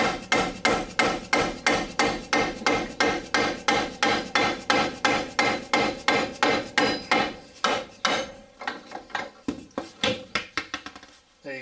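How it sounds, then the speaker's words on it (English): A big rubber hammer strikes a Ford Focus front strut to free it from the steering knuckle, in a steady, rapid series of heavy thuds, over twenty blows, then slower, irregular hits near the end. "Big rubber hammer."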